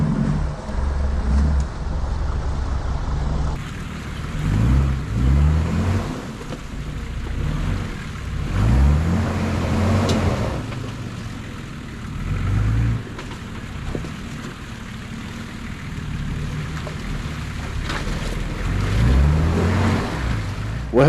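A Mitsubishi Pajero four-wheel drive pushes through a fast-flowing creek on an off-road track, its steady engine rumble mixed with rushing water and gusty wind noise over a long stretch, with no talk.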